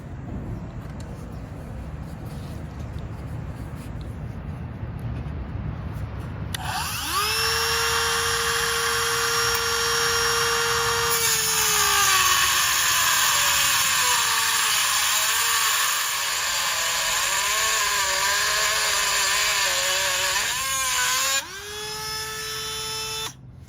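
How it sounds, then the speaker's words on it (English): A Dremel rotary tool fitted with a cutoff wheel whines steadily, cutting into metal on a boat trailer bunk. It is a loud, sustained high whir lasting around fifteen seconds, with pitch dips as the wheel bites, after quiet background. "I'm just using a simple Dremel tool with the proper cutoff wheel on it."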